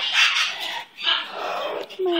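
A puppy whimpers and gives small yips and barks while being cuddled, in short close bursts over a couple of seconds.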